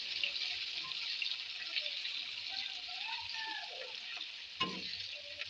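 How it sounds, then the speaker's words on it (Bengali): Onions frying in a pan until reddish-brown, a continuous close hiss of sizzling oil with a faint voice murmuring underneath and one brief clink near the end. "পেঁয়াজটা লাল লাল করে ভেজে নেব।"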